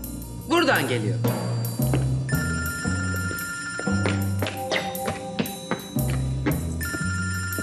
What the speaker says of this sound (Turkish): Bu telefon sesi de nereden geliyor?